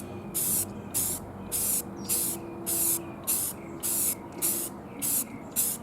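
Spray can priming miniatures laid on their side, about a dozen short, even hissing bursts in a steady rhythm, close and clear with no talk.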